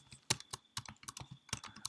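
JavaScript code being typed on a computer keyboard, with close, sharp key clicks in uneven quick bursts and a few louder strokes among them, alone with no speech.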